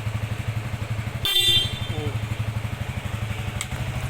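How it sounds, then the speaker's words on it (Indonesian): Horn of a 2015 Yamaha V-Ixion Movistar motorcycle gives one short honk over the idling engine's steady putter. "klakson."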